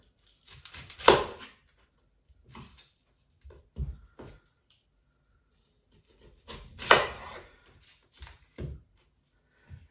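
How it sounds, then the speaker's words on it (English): A knife chops an onion on a cutting board for chorizo con papas, in two short clusters of quick, crisp chops separated by quieter single taps and pauses. "first let's get our onion chopped"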